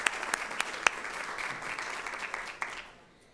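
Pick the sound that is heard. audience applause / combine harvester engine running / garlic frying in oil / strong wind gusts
audience applause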